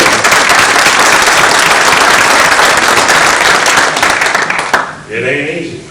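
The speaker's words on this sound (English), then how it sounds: "We need you young people to take up and applaud John Paul Listowski" Audience applause at a Galveston mayoral candidate forum, steady dense clapping filling the room for nearly five seconds before stopping abruptly, followed by a brief voice.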